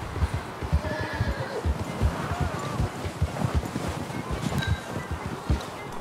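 A horse in Red Dead Redemption 2 whinnies while its hooves clop in a quick, steady rhythm, set against a soft wash of wind and rustling. No talking is heard.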